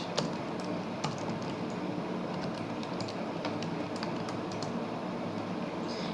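Computer keyboard keys clatter in quick, uneven bursts while an HTML heading is typed, light clicks close by over a steady background hiss.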